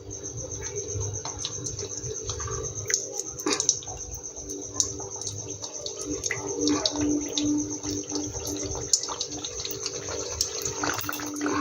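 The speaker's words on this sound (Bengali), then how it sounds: "বন্ধুরা দেখো খাজাগুলো আমার কত সুন্দর ভাজা হয়েছে" Layered khaja pastries fry in hot oil at home, a steady close sizzling and bubbling that keeps going throughout with small pops, and nobody talks.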